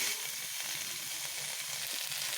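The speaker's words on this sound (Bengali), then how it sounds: "ছানা দেবার পরেও মশলাটিকে আর একটু ভালোভাবে ছানার সঙ্গে কষিয়ে নিতে হবে" Spiced masala being sautéed with crumbled chhana cottage cheese in a pan, giving a steady, even sizzle with a faint scrape of stirring throughout.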